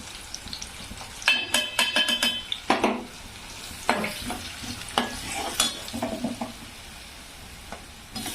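A mixed spice masala goes into a hot frying pan, setting off a burst of sizzling along with clattering and scraping of a metal spoon against the pan in irregular bursts.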